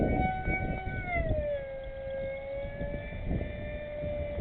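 A model jet, a Mako or J20, climbs vertically, giving a loud steady turbine whine that drops in pitch and then holds over gusty wind noise.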